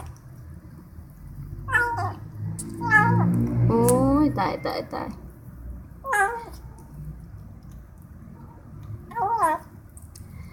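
A hungry young cat found on a road island meows while being fed: several high, wavering meows in separate bursts, close and clear over a low background hum, with a person talking briefly in between.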